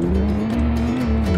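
Engine drone of a car driven in the video game Deer Simulator, a steady loud motor tone with slight pitch shifts, accompanied by a low rumbling pulse throughout.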